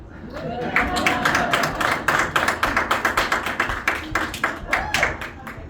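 Scattered audience clapping at a magic show by Joe M. Turner at House of Cards in Nashville, starting as separate claps and settling into a fairly steady rhythm, with a voice heard faintly early on.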